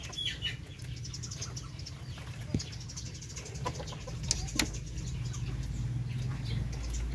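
Hens and a rooster in a coop, with scattered faint clucks and chirps over a steady low background hum. No one speaks.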